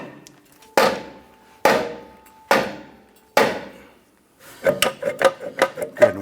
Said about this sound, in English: We're going to use our mallet.